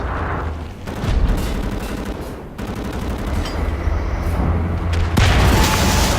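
Grenade blasts and sustained gunfire in the first-person shooter Wolfenstein: The New Order, loud and dense, with bursts and booms layered over continuous combat noise and no voices.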